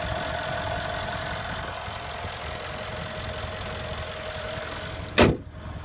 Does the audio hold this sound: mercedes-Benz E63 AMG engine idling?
yes